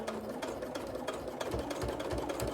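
A sewing machine topstitches bias binding onto fabric, running steadily and close with a continuous rapid whir of needle strokes throughout.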